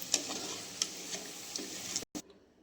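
Pori methu vadai, a fried lentil fritter snack, bubbling in hot oil with a steady close sizzle and a few sharp ticks, then a brief cutoff near the end.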